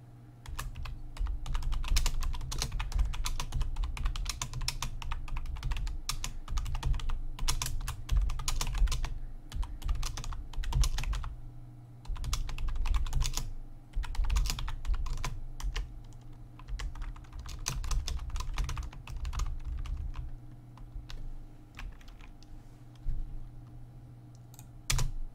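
Continuous typing on a computer keyboard, rapid irregular key clicks in bursts with brief pauses, close and clear with no talk.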